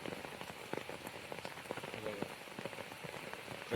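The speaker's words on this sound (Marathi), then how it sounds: "आता पाऊस खूप जोराचा चालू आहे" Heavy rain pours onto surfaces at a hillside ghat near a waterfall, a dense continuous patter of drops, steady and close.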